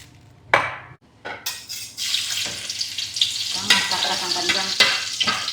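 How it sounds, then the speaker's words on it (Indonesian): Loud, steady sizzling of food frying in a pan, with stirring scrapes and a few clinks of utensils against the pan. "Kita akan menggoreng telur juga"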